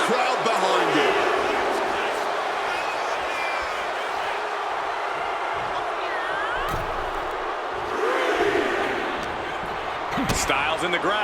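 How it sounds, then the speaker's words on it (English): Arena crowd in the WWE 2K26 wrestling game roars steadily throughout a CM Punk versus AJ Styles match, a dense loud cheer with swells near the end, under an announcer's commentary. "CM Punk rallying the crowd behind him."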